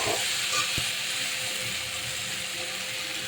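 Water splashed into a frying spice paste for a fish head curry sets off a loud, steady, broadband sizzle and hiss that fills the whole stretch, close up and without voices.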